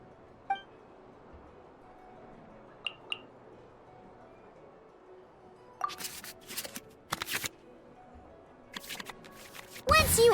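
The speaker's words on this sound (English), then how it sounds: "we can select any number of cards in our hand to shuffle back into the draw pile" Cards shuffling in the Genius Invokation TCG video game, a few light clinks early, then several short bursts of brisk card-shuffle sounds, quiet and close.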